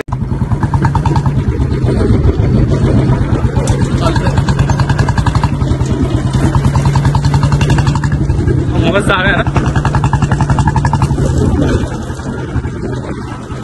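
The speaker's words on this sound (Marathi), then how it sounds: "फक्त बुलेट फक्त सायलेन्सरचा आवाज" A Bullet motorcycle engine thumps through its silencer in a steady, heavy exhaust rhythm close by, with a person speaking briefly over it before it eases off.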